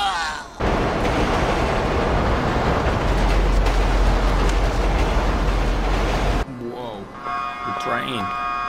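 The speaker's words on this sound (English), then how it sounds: "Train, watch out." A passing train in GTA 5 rumbles as a loud, broadband roar for several seconds, then cuts off abruptly. A voice speaks over the rumble and continues afterward.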